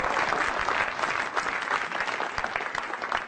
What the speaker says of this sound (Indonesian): Tepuk tangan dulu buat Kemendikbud.